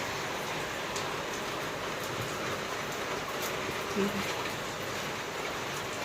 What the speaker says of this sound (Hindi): बिन मौसम बरसात रोज रोज एकदम पानी गिर